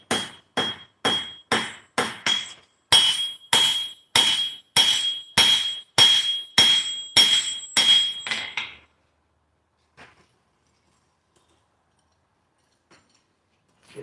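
A hammer strikes a thick piece of hot steel on an anvil, about fourteen loud ringing blows at a slow steady pace, then near silence with a few faint taps, no talk.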